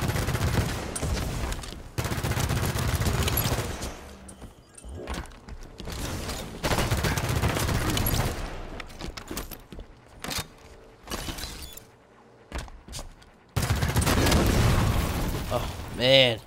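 Heavy automatic gunfire in Halo 5: Guardians Warzone: long loud bursts of rapid shots with explosive booms, broken by short pauses, while a player talks excitedly over the shooting.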